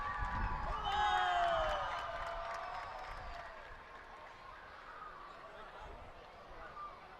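Portuguese fans in a stadium crowd clap for a female jumper at a Dubai 2019 championship, a steady roar of applause and cheering that swells early, then eases, with a commentator talking over it.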